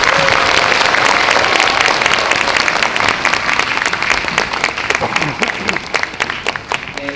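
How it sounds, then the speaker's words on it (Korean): Audience applause at a school winter performance in a hall, sustained dense clapping from a large crowd throughout, loud and even before thinning slightly toward the end. "5학년 친구들에게 큰 박수 부탁드립니다"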